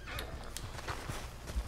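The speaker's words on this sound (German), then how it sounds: "So, komm mal her, Pferd." Horse whinnying in Red Dead Redemption 2, a short, fairly quiet neigh with soft hoof clops mixed into game ambience.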